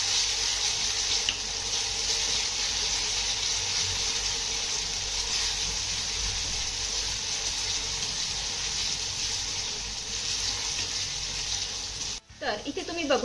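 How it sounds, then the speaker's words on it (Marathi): Finely chopped tomato sautéing in a pan until soft, a steady close sizzle running throughout, broken near the end by a brief clatter, while a voice talks over it. "हा टोमॅटो आपण चांगला मऊसूर होईपर्यंत परतून घेऊया"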